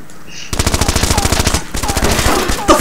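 Rapid automatic gunfire in the multiplayer shooter Breach during a team deathmatch on the Passage map, a loud close burst of fast rhythmic shots lasting a couple of seconds.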